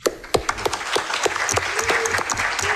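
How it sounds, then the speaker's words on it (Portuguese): An audience at a human rights event applauding for students, with dense, steady clapping from many hands at moderate distance and no talking. "queria chamar aqui uma salva de palmas para os alunos e alunas do IRI"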